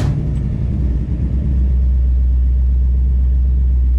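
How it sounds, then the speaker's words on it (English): A 1970 Chevelle muscle car engine cranks and catches after an oil change, then settles into a deep, steady low rumbling idle close by. "you want to just kind of crank it over, start it up, let it idle"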